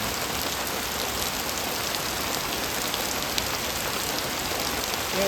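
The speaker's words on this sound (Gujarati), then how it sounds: "ધોધમાર ચાલુ થઈ ગયું" Heavy village rain pours down in a dense, steady hiss with no breaks, drumming evenly on surfaces nearby.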